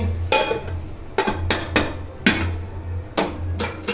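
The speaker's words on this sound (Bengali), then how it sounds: "একটু পরে দিয়ে আবার একটু নাড়াচাড়া করে দিলাম" A spoon or spatula stirs snake gourd curry in a pot, cooked Bengali style, giving a few sharp metallic clanks and scrapes in an irregular rhythm, close and fairly loud.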